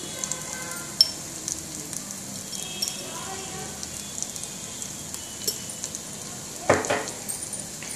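Spices including turmeric and chili powder stirred into curry frying in a pan, a steady crackling sizzle throughout with occasional sharp ticks and a louder scrape near the end.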